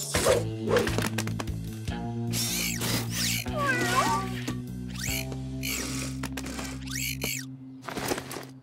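Cartoon cats meow in a children's animated rescue episode, several high, bending meows rising over a steady musical score and busy sound effects, with brief voice bits.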